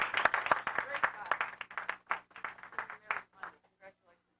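Applause from an evening audience at a church philosophy talk, with scattered claps rising then thinning to a few isolated hand claps, close and fairly quiet.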